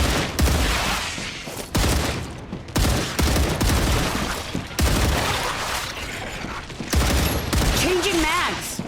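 Loud, close bursts of gunfire in StarRupture come in repeated volleys broken by short gaps, with a voice briefly speaking near the end.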